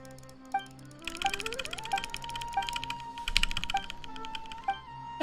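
A computer keyboard clatters in short, fast runs of close clicks, moderately loud, over a quiet tonal game soundtrack.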